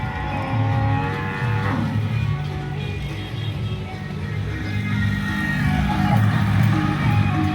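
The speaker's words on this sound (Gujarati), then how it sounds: "બનાસકાંઠાની લોકલ ગાયો છે આપણી પાસે તમામ ગાયો." Local Banaskantha cows lowing in the open, several drawn-out moos overlapping across the clip over a steady background engine rumble, fairly close and loud.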